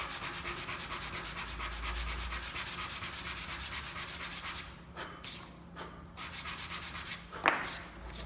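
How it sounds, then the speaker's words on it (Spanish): Sandpaper wrapped on a wood block rubs back and forth over the wooden braces of a guitar soundboard, giving steady rhythmic scratchy strokes close to the microphone that pause and change briefly near the end. "Simplemente lijar."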